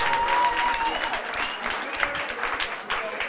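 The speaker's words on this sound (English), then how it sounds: "Please, can we give a round of applause for Kilebogeile?" Applause from an audience at a township business workshop and pitching competition in Bochabelo, Free State, a brief burst of clapping of moderate loudness with some voices mixed in.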